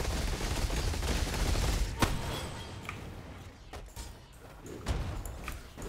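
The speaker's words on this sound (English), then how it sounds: "And our explosions are rather satisfying." Sharp blasts and crackling bursts from the video game Path of Exile, several explosions in quick succession over a dense, rumbling background.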